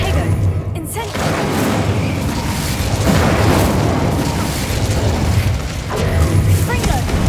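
Incendio fire spell cast in the Hogwarts Legacy video game, a dense mechanical, booming burst of flame and clatter that runs loud and continuous through the whole stretch, swelling again near the end, with a voice speaking over it.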